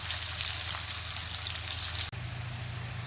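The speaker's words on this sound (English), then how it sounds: "fry this on medium-high heat until the colour of the onions has changed" Sliced onions frying in oil on medium-high heat, giving a steady close crackling sizzle throughout, broken once by a brief dropout before the sizzle resumes.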